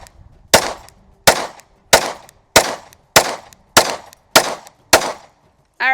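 A tan FDE Glock 43x pistol fired in a steady series of eight sharp, loud shots about two-thirds of a second apart, each with a short ringing tail, a ninth starting at the end, no speech.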